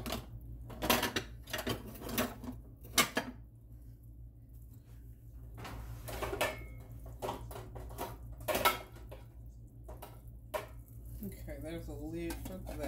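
Pots, pans and lids clatter and clank in a home kitchen as someone rummages for a lid, a string of sharp metallic knocks and scrapes in irregular bursts with quiet gaps between them.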